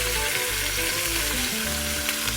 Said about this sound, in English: Now we're just simply going to let them brown up on the one side